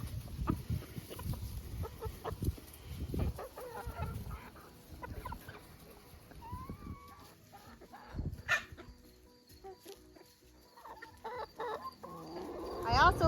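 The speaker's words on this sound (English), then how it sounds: "So these chickens absolutely love it." Backyard chickens clucking and murmuring while feeding on millet stalks, scattered close cackles and soft calls over rustling and outdoor ambience, with occasional insect buzz.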